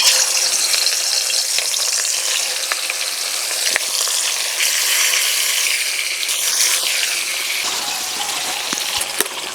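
Pieces of rui fish, rubbed with salt and turmeric, fry in plenty of smoking-hot oil in a wok, giving a loud, dense, unbroken crackling sizzle up close, with occasional sharper spits and no voices.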